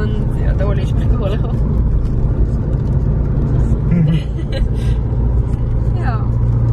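A car driving along a road in Switzerland near Lake Lucerne, its steady low engine and road rumble running continuously from inside the vehicle, with people talking over it throughout.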